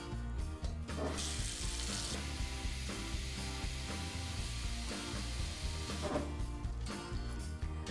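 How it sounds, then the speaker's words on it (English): Cold water runs from a tap into a pot of eggs, a steady, dense rushing hiss that carries on without pause for the whole stretch, close and fairly loud, with no talking. "we're gonna fill the pot up with cold water, and you wanna fill an inch above the eggs"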